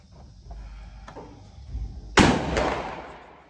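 A single sharp, loud gunshot from a Siamese R.S. 121 Mauser rifle cracks out at an outdoor range after a stretch of low ambient rumble and a few faint knocks, then fades in a short echoing tail.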